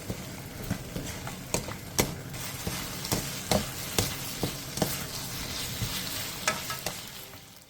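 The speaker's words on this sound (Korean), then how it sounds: "2분 정도 골고루 볶아주세요." Onions stir-fried over high heat with gochujang, ketchup, oyster sauce and corn syrup for a sausage and vegetable side dish: a steady close sizzle broken by frequent sharp spatula clacks and scrapes against the pan, with no talk.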